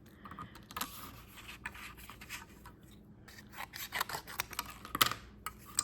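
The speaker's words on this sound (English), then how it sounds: "I'm gonna cut this out. So I'm gonna go ahead and trim this down." Scissors trim cardstock in close, quiet, irregular snips mixed with light scraping and rustling of the paper.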